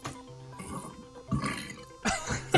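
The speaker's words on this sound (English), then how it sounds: "That was a burp." A man gives a pair of loud, deep burps, the first around the middle and a second stronger one near the end, with quieter throaty noises between them.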